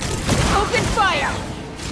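Gunfire bursts from Genshin Impact and Asphalt gameplay, a rapid loud fusillade of shots and thumps filling the short span.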